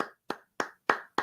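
A few slow, sharp hand claps, about five in a little over a second, evenly spaced with silence between them, close and fairly quiet, with no voices.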